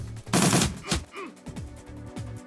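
Video game gunfire in Shadowrun Returns, an opening burst of rapid automatic shots followed by a few separate single reports, loud and close, with game music running underneath.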